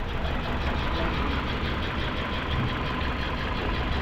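A Toyota Altis engine idles roughly with strong vibration from a dirty throttle body, producing a steady, grainy rumble with a shaky, uneven texture that continues without pause.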